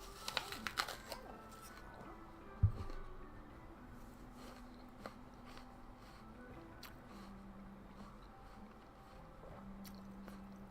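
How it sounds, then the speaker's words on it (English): Close, crunchy bites and chewing of an apple, a few sharp crisp crunches early on, then quieter mastication under a steady low background hum. "Sorry, I'm chewing my apple."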